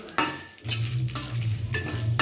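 Cumin seeds and black pepper fry lightly in a pan with a little oil. Several scraping stirs come in bursts over a soft, close sizzle.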